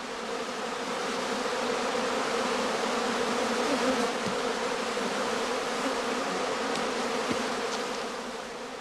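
Honey bees swarming at a straw skep during prime swarming season on a Lower Saxony heathland, filling the air with a dense, steady buzzing drone from many insects close by.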